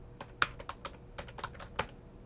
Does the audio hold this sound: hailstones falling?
no